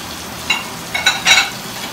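Seafood pasta is stirred in a frying pan, a steady low sizzle broken by a few short scraping bursts as the utensil moves through the food, close and fairly loud.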